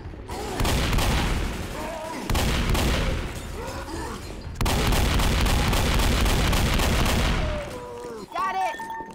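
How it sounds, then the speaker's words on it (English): Dense bursts of gunfire aimed at the Tank in Left 4 Dead 2 fill the game mix in long loud volleys, breaking off briefly twice before tapering into quieter game noise at the end. "Shoot the damn tank!"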